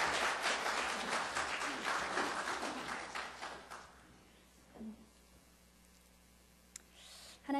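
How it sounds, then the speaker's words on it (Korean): Applause from a church congregation welcoming a guest speaker, a dense patter of clapping that fades away over about four seconds, leaving quiet room tone with a faint click or two. "박수로 환영해 주세요"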